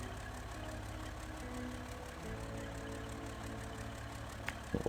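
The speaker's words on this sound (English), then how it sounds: "I should have turned my engine off while I was doing this." A truck engine idles in the SnowRunner video game with a low, steady rumble, faint and continuous, ending in a couple of brief knocks.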